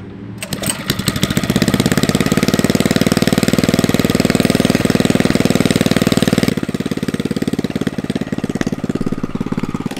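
A homemade mini bike's small engine runs with no exhaust fitted, a loud, raw, rapid popping drone that holds steady, then drops slightly in level partway through and keeps chugging with no talk over it.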